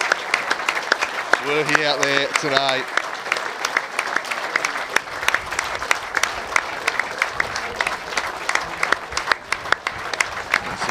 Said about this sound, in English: Just applause for Hakeem.